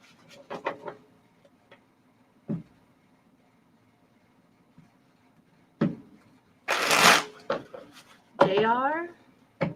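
A deck of cards is handled before one is drawn: scattered soft taps and riffles, then a burst of quick card shuffling, with a voice speaking briefly near the end.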